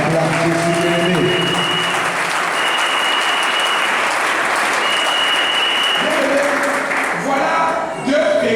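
A church congregation applauds and cheers for Jesus, sustained loud clapping with shouts and a held musical tone underneath, tapering slightly at the very end.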